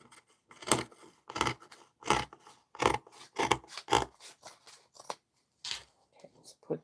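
Heavy scissors cutting through thick fabric during a sewing session, a run of separate rasping snips in an irregular rhythm, close and fairly loud with quiet gaps between cuts.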